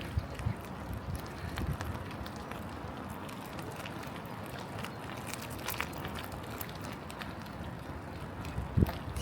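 Bitterly cold wind buffets the microphone during a morning bicycle ride around a lakeside, a constant rough rumble and hiss with occasional louder gusts and light rattles.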